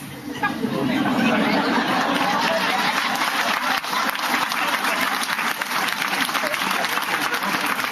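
An audience at a stage show claps loudly and continuously for several seconds, a dense, sustained wash of applause mixed with some crowd chatter.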